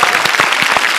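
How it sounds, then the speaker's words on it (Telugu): Studio audience at a Telugu TV comedy show breaking into loud, dense applause, rapid claps filling the whole moment. "give him a big round of applause"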